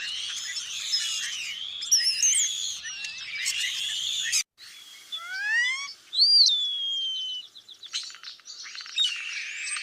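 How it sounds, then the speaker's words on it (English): A starling runs through a varied medley of borrowed bird phrases, squeaks, chirps and rising whistles, with a short pause partway through, then continues in clear, close bursts against a quiet background. "Starlings tend to just run up, they'll run a bunch of different songs of other birds together with some squeaks and whistles and things."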